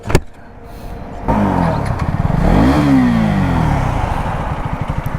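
A Bajaj RS200 and a KTM Duke 250 motorcycle rev up close by, with a brief clatter before the engines rise in a loud climbing whine, peak and settle into a throbbing idle.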